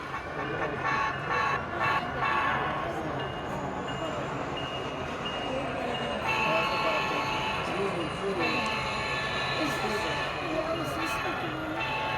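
Model train 432 rolling along the inner track of a club layout at a train exhibition, a steady rumble and clatter of wheels under a busy hall with people talking nearby.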